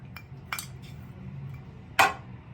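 Betel and chanothi leaves stirred into a melted sugar mixture, giving a few light utensil clinks and scrapes against the pan, with a sharper clink near the end and no talking.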